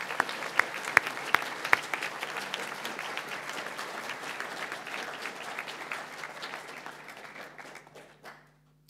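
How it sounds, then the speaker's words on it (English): Applause from a school audience at a junior prize giving for departing staff at Waiopehu College, steady and sustained with a few sharp nearby claps early on, then tapering away to silence near the end. "Could I ask you please to give all of our departing staff a big round of applause?"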